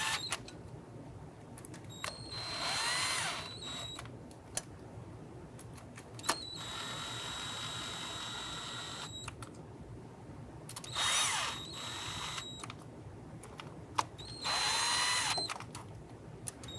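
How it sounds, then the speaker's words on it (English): A power driver runs bolts down on the intake manifold of a 1994-2004 Ford Mustang 3.8, in four short whirring bursts of a couple of seconds each, separated by quiet gaps and a few clicks, close and fairly quiet. "Now I'm just going to run these bolts down just until they bottom out."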